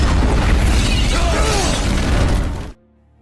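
A loud explosion in an action film, a roaring, crackling blast with shattering debris that holds for about two and a half seconds and then cuts off abruptly into near silence.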